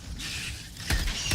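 Weapon magazine reload in Helldivers 2: two quick metallic clicks, close and crisp, over a low steady game rumble.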